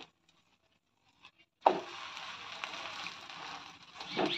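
A raw potato paratha fries in a pan with a soft, steady sizzle and light crackle that starts abruptly after near silence and continues faintly.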